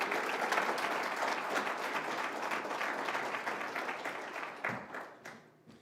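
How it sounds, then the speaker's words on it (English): Sustained audience applause at a press conference for the National Battle of the Bands in the Palm Beaches, a dense, even wash of many hands clapping that thins and fades over the last second. "Please give Athletic Director Mr. White another round of applause, please."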